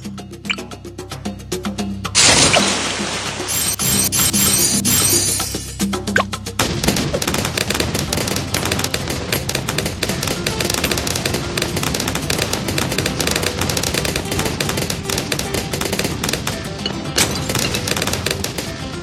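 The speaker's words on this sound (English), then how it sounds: "There's so many explosions happening." Bloons TD 6 game explosions burst in rapid succession, a loud blast around the start followed by continuous crackling booms and gunfire-like rattles throughout.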